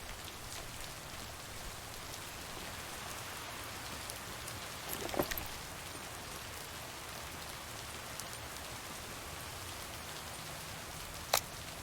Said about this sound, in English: I feel like taking a picture of the rain.